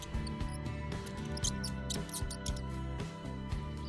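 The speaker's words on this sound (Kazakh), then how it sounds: "тышқан" A mouse squeaks in short, high, faint bursts, scattered over a steady tonal musical background with rhythmic low pulses.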